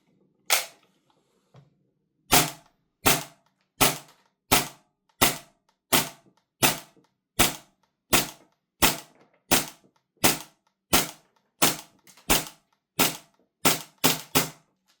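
A VORSK VMP1 gas airsoft gun fires through a short magazine, roughly sixteen sharp cracks in a steady semi-auto rhythm after two early isolated pops, close and loud with no talking.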